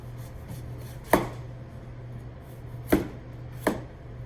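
A knife cuts through a pumpkin on a board in three sharp, separate chops at uneven intervals, close and crisp over a quiet room hum.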